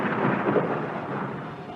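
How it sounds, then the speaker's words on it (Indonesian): A deep, broad rumble of thunder rolls through a heavy nighttime rainstorm and fades slowly over a couple of seconds, with no voices. "Angin dingin menderu-deru disusul dengan suara petir"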